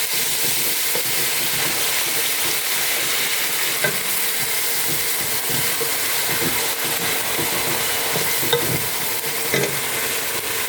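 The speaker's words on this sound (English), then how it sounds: "It's sizzling." Steady, loud sizzling of spices frying in a pan, continuous throughout, with faint clicks of stirring.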